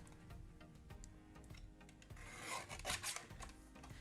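Card paper trimmed on a paper trimmer for a craft project, quiet close rasping and rubbing strokes with light ticks, building to a louder scraping cut toward the end, no talk.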